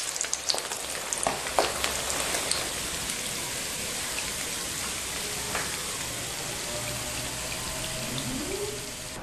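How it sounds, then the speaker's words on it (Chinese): Crucian carp deep-fry in hot oil until golden. A steady, close hiss of sizzling runs throughout, with scattered sharper crackles and pops and no voices. "然后再次开火继续炸， 直到把它炸成这种焦黄的时候"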